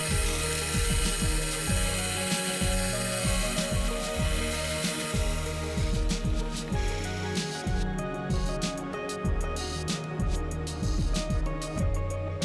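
A milling machine cleans up the raw cuts on parts for the main solar drive wheel of an Antikythera mechanism reproduction, a loud, close, continuous grinding whine with rhythmic chattering pulses and bursts of fine ticking later on.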